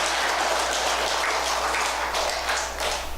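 An audience at a Buddhist sutra lecture claps, a steady, dense wash of applause from many hands filling the hall for a few seconds without speech.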